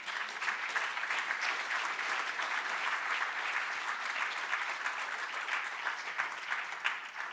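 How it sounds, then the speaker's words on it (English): A conference audience applauds panel members at a marine knowledge event, a steady, dense round of clapping from many hands that holds evenly throughout with no voices over it. "Give them a big round of applause."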